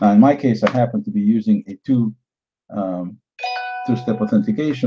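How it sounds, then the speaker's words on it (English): A phone gives a short notification chime for a two-step authentication sign-in, a brief bright tone heard in a gap in a man's speech and quickly covered as he talks on. "so that's my phone chimes in"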